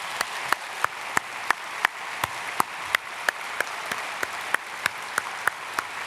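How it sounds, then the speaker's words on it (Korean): Rhythmic unison clapping from a church congregation at a special early-morning prayer service, sharp regular claps about three per second, loud and steady, with a faint crowd murmur underneath. "우리 영광의 박수 한번 올려드리겠습니다."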